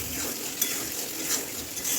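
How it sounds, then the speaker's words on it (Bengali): Meat and potatoes are stir-fried with spices in a hot pan, making a steady, close, dense sizzle with light scraping from stirring throughout. "এখন মাংস আলু ভাজা হয়ে গেছে, ভালো করে মশলা কষিয়ে নিচ্ছি।"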